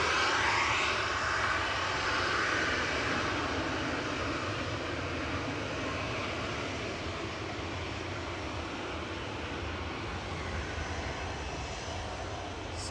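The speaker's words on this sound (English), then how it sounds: "Sun Express coming in from Dalaman with flight 506, just touching down" A Sun Express airliner arriving from Dalaman touches down at Manchester Airport, its loud, steady engine roar and broadband rumble filling the whole stretch and fading slightly toward the end, with no voices.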